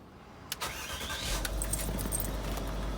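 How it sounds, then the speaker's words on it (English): Range Rover L322 3.6 TDV8 diesel engine starting after a faint click and key jingle, catching after about a second and settling into a steady close idle. "So we're going to start the car."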